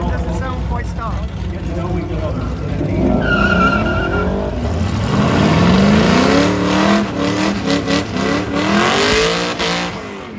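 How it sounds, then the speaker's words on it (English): A wood grain station wagon with a Corvette engine runs at a hot rod power tour, its rumbling motor rising and revving amid other cars while people talk over it. "That wagon doesn't sound quite stopped."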